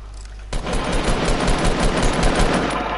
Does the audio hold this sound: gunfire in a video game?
yes